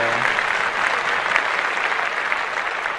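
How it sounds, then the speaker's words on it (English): Clapping in a podcast studio for show 37 forms a continuous, even patter of many hands, likely a played crowd-applause effect, steady and fairly loud with no talk over it. "Can we clap that up? Early claps."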